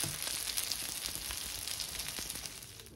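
Kafta kebabs fry in a pan of hot oil, giving a steady, close sizzle with scattered pops and crackles that eases slightly toward the end, with no voices.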